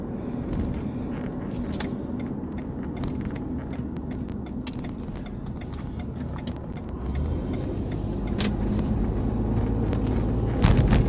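Inside a 12-year-old car on the move, the engine gives a steady, loud low rumble that slowly builds. Scattered creaks and rattles from the cabin run through it, with no talking.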